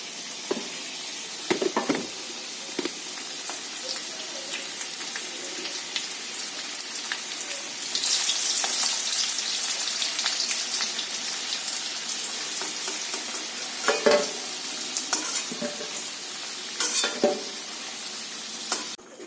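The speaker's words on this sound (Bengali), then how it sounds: "তো আমার আলুটা ভাজা ভাজা হয়ে গেছে, তো আমি এবার আলুটাকে তুলে নেবো।" Potatoes frying in a pan: a continuous close sizzle, louder in the middle stretch, broken by intermittent clattering scrapes as the pieces are stirred. No one speaks.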